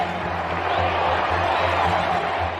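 A large crowd cheers at a royal wedding as the couple kiss on the balcony, a steady far-off roar of many voices that holds at an even level without breaks.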